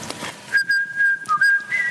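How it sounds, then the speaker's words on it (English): A person whistles a clear, close melody of sustained and sliding notes for about two seconds, with faint room noise beneath and no talking. "I can whistle pretty well."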